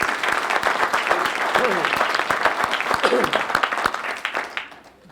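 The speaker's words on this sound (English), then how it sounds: "So big round of applause." Hall of fame inductees, including a 1974-75 football team, receive a big round of applause from the crowd, dense clapping with sharp individual claps throughout, brief voices mixed in, fading at the end.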